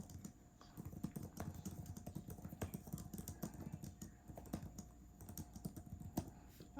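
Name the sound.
typing on Samsung Tab keyboard case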